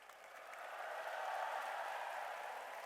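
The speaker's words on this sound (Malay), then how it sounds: "Ayo kita sorak." An audience of students at a gathering with the Malaysian Prime Minister bursts into cheering and applause that swells within a second and holds as a broad, fairly distant roar.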